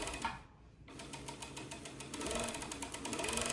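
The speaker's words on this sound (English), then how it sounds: "And you're just gonna sew over it." A sewing machine stitches cardigan fabric pieces together, a soft, fast mechanical whirr with even needle ticking that dips briefly for a moment and then runs on steadily, slightly louder toward the end.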